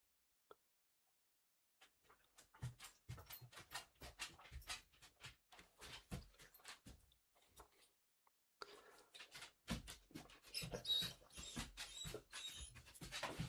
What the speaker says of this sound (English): Dog has come to whine at me.